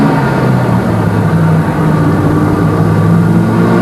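Ford Fiesta race car built for circuit racing, heard at speed on a track: a loud, continuous engine drone with steady mid-range harmonics that holds throughout, with no talk over it.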